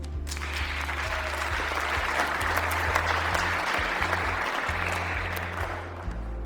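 Sustained applause from an audience at a Year 6 graduation ceremony, steady dense clapping filling the whole stretch over a low hum, easing slightly near the end.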